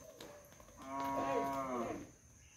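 A single cow on a Konkan farm, let out to graze after a Diwali cattle worship, gives one long mellow moo of about a second, clear and moderately close over quiet background.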